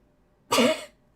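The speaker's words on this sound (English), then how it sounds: "I'm gonna cough." A single harsh cough, close and fairly loud, bursting out of near silence and lasting under half a second.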